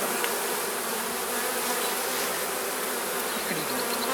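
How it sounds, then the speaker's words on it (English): Honey bees, drones among them, buzz around a hive in a dense, continuous hum at close range, with no voices over it. "a drone, which is a big fat male bee"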